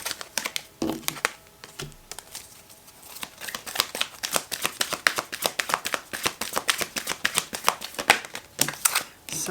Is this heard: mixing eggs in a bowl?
no